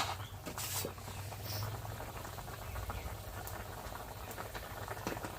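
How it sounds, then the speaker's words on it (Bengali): Bata fish curry simmering in a pan, a steady low bubbling and patter of boiling liquid that carries on evenly throughout, close and fairly quiet, with no talk. "তরকারিটা আমি পাঁচ মিনিটের মতো জল করে নিয়েছি এখন দিয়ে দিচ্ছি মাছগুলো"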